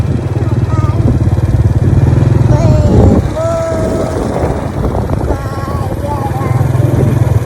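Motorcycle riding along at a steady pace, a loud continuous engine drone close by with wind rumble, while people talk over it.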